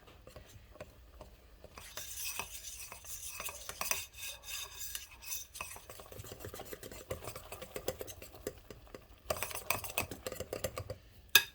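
Gentle whisking of a cake batter with starch in a bowl, soft scraping and rasping strokes that come in uneven bursts, close and quiet with brief pauses between.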